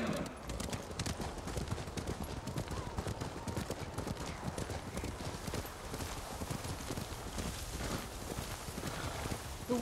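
Horse hooves clip-clop at a steady rapid pace in the video game Ghost of Tsushima, close and continuous, moving through snowy weather.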